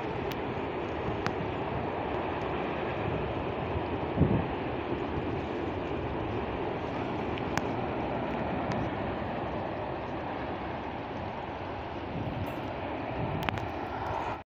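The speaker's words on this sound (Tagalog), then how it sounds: "Toko yung may dumaan na tren. Ang haba." A long train rumbles past steadily near the Sava bridge (Savski most) in Zagreb, Croatia, a continuous heavy roll with occasional faint clanks, heard from outdoors without talking.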